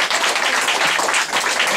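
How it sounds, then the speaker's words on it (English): A seated audience at a West Point signing ceremony applauds with dense, steady clapping close by throughout. "How about a big round of applause?"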